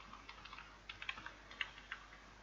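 Light, close keystrokes on a computer keyboard while a password is entered, a quick irregular patter of about a dozen soft clicks in a quiet room.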